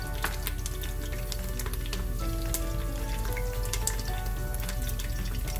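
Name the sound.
whole spices sizzling as they are added to hot oil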